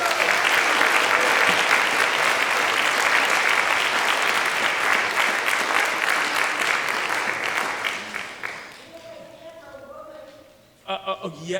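Audience applause at a concert, a loud, sustained crowd clapping that fades after about eight seconds, followed by a voice speaking into a microphone.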